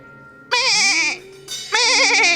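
Voice imitating a goat caught in a kite's beak, giving two loud wavering bleats in close succession on a comedy stage, the second a little longer, with a short gap between them.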